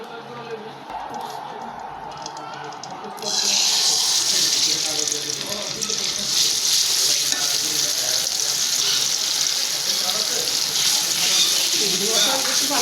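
Khalsa fish frying in hot oil, a loud hissing sizzle that bursts in suddenly and holds steady, with someone speaking over it.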